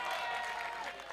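Applause from an audience at a Hindi comedy poetry stage show, a steady dense wash of clapping lasting about a second.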